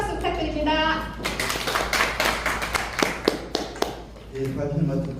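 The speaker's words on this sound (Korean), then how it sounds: "큰 박수 부탁드립니다." Audience applause at a rural community roundtable meeting in a hall, a few seconds of scattered, uneven clapping with talking before and after it.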